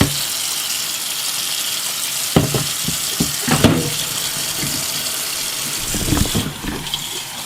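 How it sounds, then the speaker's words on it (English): Cold tap water runs steadily into a Pinter home-brewing keg, a continuous rushing flow broken by a few sharp splashes and clunks. "Cold water, cold tap water."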